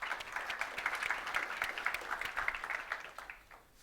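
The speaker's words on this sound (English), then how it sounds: "Big round of applause to Flash." A tech-talk audience breaks into brisk, crisp applause with many overlapping claps, holding steady before tapering off at the close.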